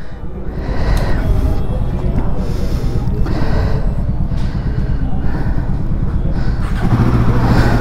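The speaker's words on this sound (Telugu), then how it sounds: "Look at the engine sound, నాకు సౌండ్ అయితే భలే నచ్చింది." A Royal Enfield Himalayan 452 engine idles loudly close up, its low rumbling thump steady throughout with a slight rise in revs near the end.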